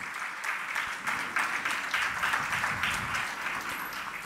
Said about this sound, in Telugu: చప్పట్లు గట్టి కొట్టి దేవుని స్తుతిద్దాం